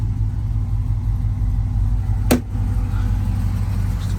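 A 1972 Chevrolet C10 shop truck with an LS2 6.0 V8 and programmable fuel injection idles steadily, its low rumble loud and close, with one brief sharp click partway through.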